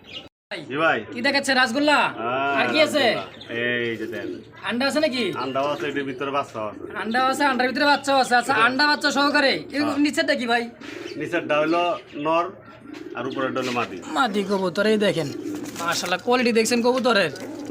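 A breeding pair of pigeons at a pigeon seller's place coo repeatedly at close range, mostly buried under continuous talking voices.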